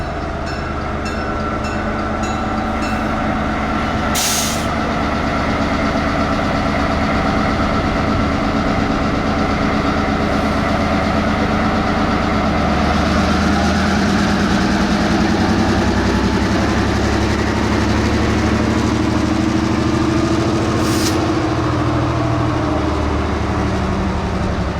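A locomotive engine rumbles loudly and continuously while switching kaolin cars on a Georgia short line, with a deep idling drone, a few sharp metallic clanks and squeals, and no voices.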